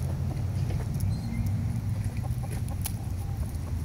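Chickens on a farm in the Philippines cluck in a busy flock, low clucks and murmurs going on without a break under a steady outdoor hum, close and fairly loud with no speech.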